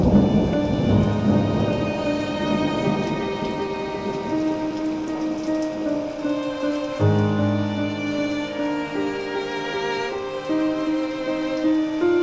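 Heavy monsoon rain pours steadily in Bharuch, Gujarat, with deep thunder rumbling and rolling through the downpour, loud and continuous throughout without any voices.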